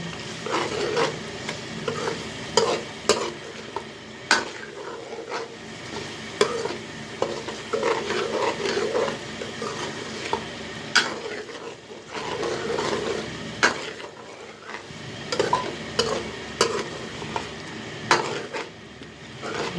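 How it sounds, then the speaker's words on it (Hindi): Chicken karahi is stirred in a pan, street-food style, with a continuous frying sizzle under repeated clattering scrapes and knocks of a metal spoon against the pan, close and busy, with no voices. "इनको अच्छी तरीके से हिलाते रहना"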